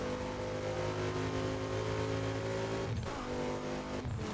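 A GT 2400 in Burnout Paradise with its engine held at a loud, steady rev, briefly dipping twice as if shifting or lifting off, then climbing again, close and with nothing else over it.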